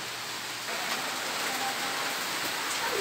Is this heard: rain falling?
yes